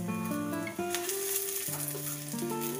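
Small puti fish fry in oil with chopped onion and tomato, a steady broad sizzle running under a tuneful melody throughout.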